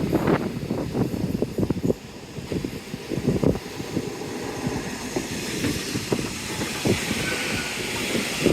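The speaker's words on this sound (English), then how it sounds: "There we go, first train of the day" A train passes along a seaside seawall on a windy day, its rumbling clatter rising and fading over a few seconds amid gusty wind buffeting the microphone.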